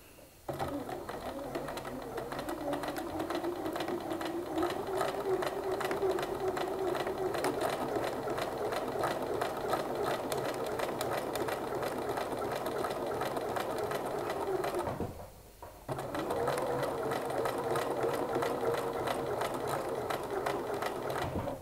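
A sewing machine runs a straight stitch along the front pocket of a pair of jeans, whirring steadily and close for about fifteen seconds. It stops briefly, then starts again.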